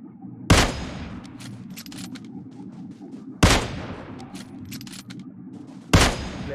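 Gunfire in the PUBG Mobile battle royale game, with three sharp loud shot bursts spaced a few seconds apart over steady in-game ambience, no talk.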